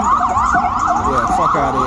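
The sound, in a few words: ambulance siren passing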